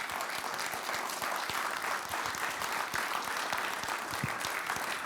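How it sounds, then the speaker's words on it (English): An audience applauds the panel at the Isle of Man Sustainability Debate, with dense, steady clapping that fills the whole stretch evenly. The sound is moderately distant and heard alone, without speech. "Thanks to our panel. Round of applause."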